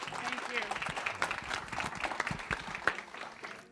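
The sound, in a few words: applause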